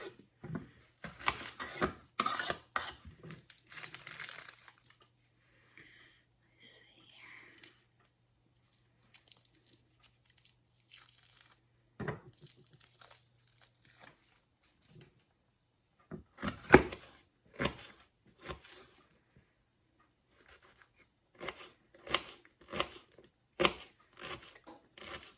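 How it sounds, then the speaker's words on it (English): A shallot being cut up with a knife for a pasta dish: sparse, crisp crunching taps in short bursts, separated by quiet pauses, close and fairly soft. "let's cut this shallot up."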